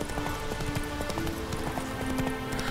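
Horse hooves clop steadily in The Witcher 3 video game, a quiet, even run of galloping hoofbeats with no talk over them.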